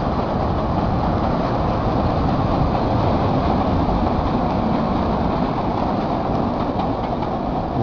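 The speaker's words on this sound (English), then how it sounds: "here goes a train" A continuous loud rumble and roar of a Chicago train going by, steady throughout with a dense low-frequency drone and no talking.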